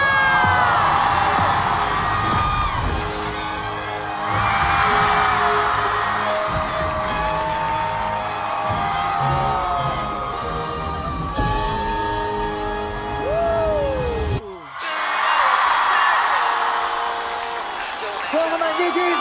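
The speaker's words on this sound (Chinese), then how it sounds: "让我们掌声欢迎大老师露丝带来的开场秀表演。" A studio audience applauds and cheers to welcome the opening show of a variety comedy program, with sustained clapping, whoops and voices swelling in waves, over music and talk, cut by a brief sharp drop near the end.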